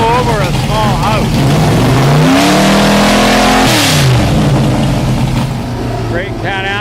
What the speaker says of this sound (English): a pretty vicious sounding Corvette with a big Canadian flag on it